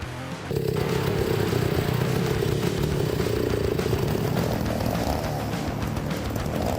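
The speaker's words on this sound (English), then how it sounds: "A chainsaw is a powerful tool designed to cut wood quickly and efficiently." A gasoline chainsaw cuts firewood, its engine starting abruptly after a brief pause and then running loud and steady at high revs with a rattling, buzzing drone throughout.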